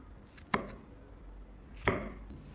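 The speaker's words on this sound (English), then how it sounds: "Then cut them into large chunks." A knife chops peeled tomatoes into large chunks on a cutting board, giving two distinct, sharp thuds well apart, close and clear with no talking.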